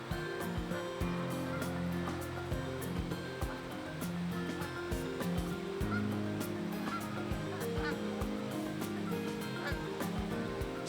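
Geese honk repeatedly near water in New Hampshire, a busy overlapping chorus of calls at moderate distance over a soft wash of lapping water.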